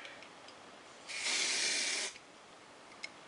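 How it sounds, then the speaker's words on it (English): Hair spray hisses from a can in one steady burst of about a second, close and fairly loud, after curling a bouncy section of hair, with quiet room tone before and after and a faint tick at the end. "And then I'm just gonna spray it."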